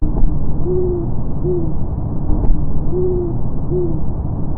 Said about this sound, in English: the classic great horned owl just kind of doing the hoo hoo hoo hoo